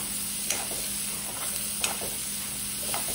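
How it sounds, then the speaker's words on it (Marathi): Finely chopped onion with asafoetida and turmeric sautés in a pan, giving a steady close sizzle broken by a few sharp scrapes of a spatula. "हिंग, हळद आणि बारीक चिरलेला कांदा छान परतून घेऊया"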